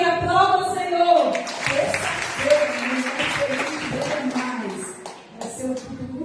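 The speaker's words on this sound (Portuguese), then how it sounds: "Aplauda o Senhor." A church congregation applauding during a Portuguese-language Tuesday deliverance service, sustained crowd clapping mixed with shouts and a preacher's raised voice over a musical backing, loud and continuous before easing slightly near the end.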